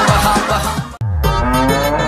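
A cow bellows loudly at a busy village cattle market, a long, deep, close moo that breaks off for an instant and then resumes just as strongly.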